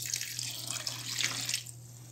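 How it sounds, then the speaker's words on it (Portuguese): A glass of water is poured into a pot of seasoned goat stew, making a bright, splashing trickle for about two seconds over a low steady hum before tapering off. "Um copo com água aqui, ó."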